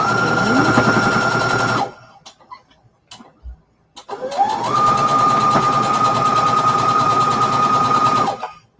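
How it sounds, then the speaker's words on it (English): Sewing machine stitching fabric for a quilt block, a loud close rapid mechanical whir that runs, stops briefly with a few faint knocks, then starts again and holds steady. "I want to sew over that."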